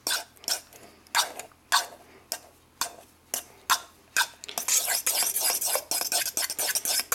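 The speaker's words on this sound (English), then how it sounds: "And again, just keep mashing it." Boiled eggs being mashed for deviled eggs, a series of close, wet, rhythmic squishing presses roughly every half second, quickening into a denser burst of mashing toward the end.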